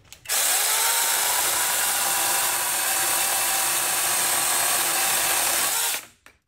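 A Wosai 20V brushless mini chainsaw cuts through dry wood, holding a loud, steady high-pitched whine for about six seconds before stopping abruptly, with no voices over it.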